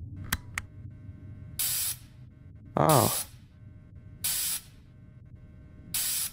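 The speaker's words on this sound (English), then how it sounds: "So go ahead and start spraying the suit" Bursts of hissing spray cleaning an animatronic suit in the Fredbear and Friends video game, four separate short blasts at a steady pace, with a brief breathy voice and a click between them.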